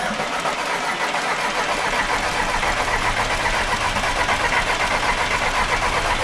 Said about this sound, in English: We're gonna see if it starts now.